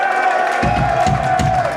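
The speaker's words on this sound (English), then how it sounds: "let's give yourself a little round of applause tonight" A concert crowd at a live heavy metal show roars and cheers loudly and continuously, with dense overlapping shouts and whoops filling the space, sustained throughout.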